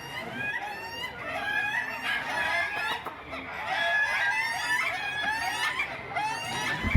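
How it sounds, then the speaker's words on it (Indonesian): Many ayam ketawa laughing chickens, a Sidrap breed from South Sulawesi, crow and cackle at a national contest, overlapping calls in rapid rising-and-falling bursts from several birds at moderate distance. "Ratusan ayam ketawa ini berkumpul dari berbagai wilayah di tanah air untuk unjuk suara"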